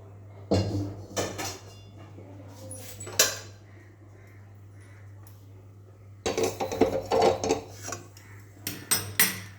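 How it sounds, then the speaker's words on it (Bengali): A kadai (wok) is set onto a stove in a home kitchen: a few metallic clanks and scrapes come in two bursts, separated by a quiet stretch, over a steady low hum. "একটা কড়াই বসিয়ে দেব।"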